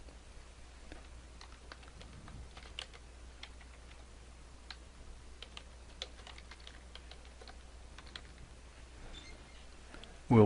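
Rapid, uneven clicking of keys on a computer keyboard as a name is typed in, close and clear over a quiet background.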